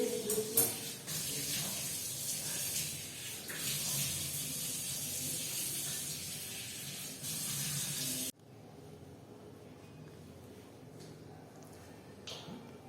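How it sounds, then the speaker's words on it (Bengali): Tap water runs in a steady hiss at a sink during face washing with cleanser, then cuts to a quieter, fainter trickle with a few soft splashes. "ধুয়ে নিয়েছি মুখটা ক্লিনজার দিয়ে পরিষ্কার করে"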